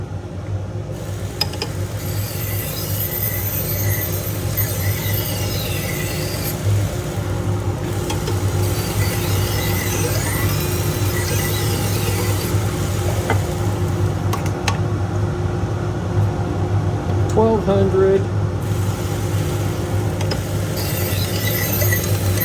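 An AMK-75 1x30 belt grinder runs steadily while a Global kitchen knife is sharpened on a 400 belt, a constant motor hum and belt whir with brief metallic squeals and scraping from the blade contact, no speech.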